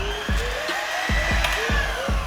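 An electric mixer whips egg whites in a bowl for Italian meringue, a steady close whirring drone with repeated rhythmic knocks as the beaters strike the bowl.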